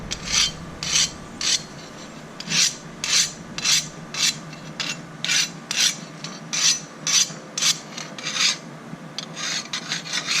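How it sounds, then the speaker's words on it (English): A steel file rasps in repeated rhythmic strokes along a forged butcher knife during a hardness test, each pass a gritty scrape, close and clear with no talking. "I'm just going to do a little file test for hardness."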